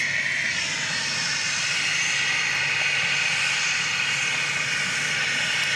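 An Embraer Phenom business jet approaching at Dallas Love Field after dark, its engine roar loud and steady throughout, a dense continuous whine and rumble with no voices.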